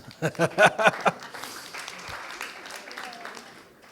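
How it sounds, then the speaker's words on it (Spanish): Applause from a political launch audience, a short burst of clapping near the start that fades into quieter crowd murmur and a voice. "Aplausos."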